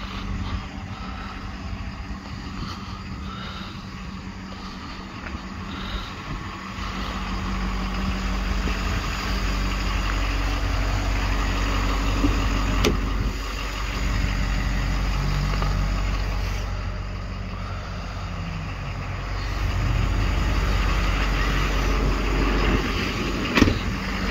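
A 2015 Ford F-350 Lariat diesel pickup idles steadily with a deep, continuous low rumble that holds at an even level throughout, with no voices over it.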